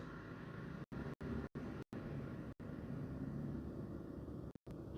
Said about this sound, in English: Sounded like there was a truck out there